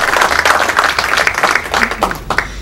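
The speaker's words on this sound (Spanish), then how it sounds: "Fuertes aplausos, se acerca el ingeniero Guillermo Olivares Maldonado." A crowd at an engineers' award ceremony claps in a brisk, dense patter of many hands, sustained and fairly close, with a faint murmur of voices underneath.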